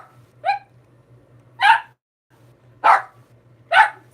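A pet dog barks four times in a home kitchen during cooking, each bark short and fairly loud, spaced about a second apart, over a faint steady hum.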